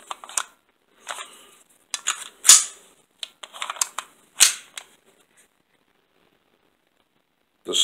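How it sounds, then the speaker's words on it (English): A Sig P320 pistol with snap caps in the magazine and none chambered gives a series of sharp, close metallic clicks and snaps in irregular clusters, separated by silent gaps, with no talk. "Then I tested the weapon with snap caps in a magazine, but not one in the chamber."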